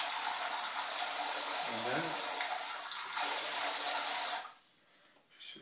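Water runs steadily through a Hydro Cleanse bidet for about four seconds before shutting off, with a brief voice speaking near the end.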